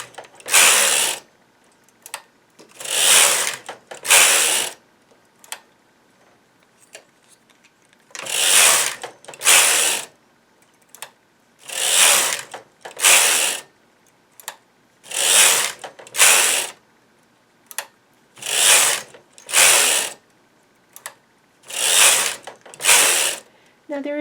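A knitting machine carriage is pushed back and forth across the needle bed while an afghan blanket is knitted, giving about a dozen loud ratcheting, clattering passes in a steady rhythm with short pauses between them.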